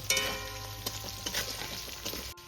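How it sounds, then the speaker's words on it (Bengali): Potatoes fry in oil in a pan with a constant soft sizzle, broken by scrapes and taps of stirring, heard alone and at low volume. "এবার আমি আলুটাকে একটু ভেজে নেব।"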